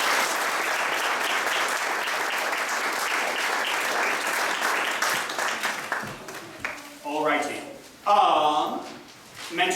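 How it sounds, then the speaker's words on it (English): An audience at a gathering applauds, a dense, sustained wash of clapping that fades after several seconds into scattered claps, murmuring and someone speaking. "give a round of applause to everybody"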